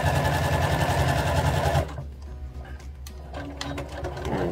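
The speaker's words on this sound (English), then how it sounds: "And again, regular stitching, back stitching. And I'm going to sew up to this pin up here." A sewing machine stitching skirt fabric, a loud steady mechanical whir for about two seconds, then stopping into quieter handling noises and faint clicks.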